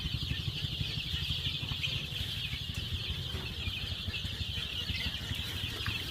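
A flock of chickens on a poultry farm clucks in a continuous, even murmur, many birds overlapping at a steady moderate level with no pauses.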